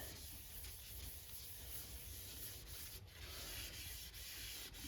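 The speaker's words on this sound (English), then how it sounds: "I'm turning the lathe by hand" A wooden bowl on a lathe turned slowly by hand has finish rubbed into it, making a faint, continuous, even scrubbing hiss with no voices and no breaks.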